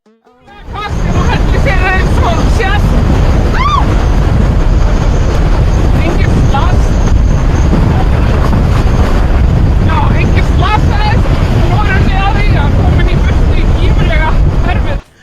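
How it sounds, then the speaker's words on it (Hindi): Strong wind roars and buffets the microphone nonstop during an outdoor news report, with faint voices and scattered sounds half-buried beneath the gusts. "ये रिपोर्टर बहुत तेज हवा में रिपोर्टिंग कर रही थी"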